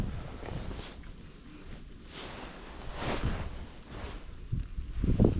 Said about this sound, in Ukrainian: Вітер, вітер роздувається такими поривами.